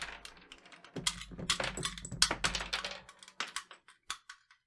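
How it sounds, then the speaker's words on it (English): Ammunition rounds clatter and rattle onto a desk in a quick burst, then a few scattered clinks trail off, close by. "I hope you can hear all those rounds rattling off my desk there."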